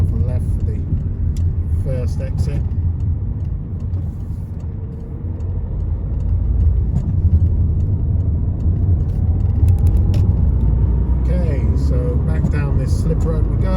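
A car on a multi-lane roundabout, its engine drone and road rumble loud and steady throughout, rising slightly as it picks up speed, with traffic around it and no clear talk.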